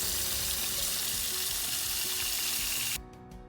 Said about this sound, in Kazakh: Енді осы майымызға жаңағы маринадтап қойған етімізді қызарғанша пісіріп аламыз.